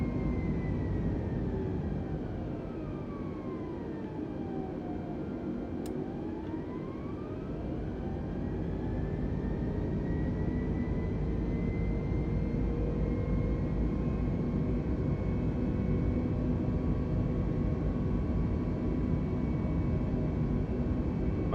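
Airliner taking off in Microsoft Flight Simulator 2020 from Dublin (EIDW): a steady, loud jet engine roar that swells and holds throughout, with rising and falling engine whine tones and no talking.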